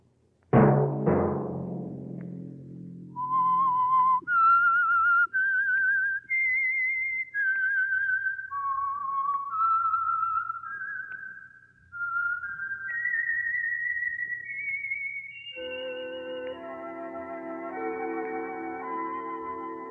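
A lone whistler carries the signature eerie melody of The Whistler radio drama, clear sustained notes rising and falling in a slow tune, following a brief resonant chime at the start, with no voices.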